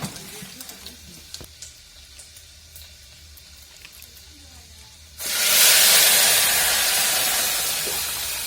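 Safflower greens dropped into a hot tempering of reddened garlic and cumin, a quiet pan crackle suddenly bursting into a loud, sustained hiss and sizzle that slowly eases.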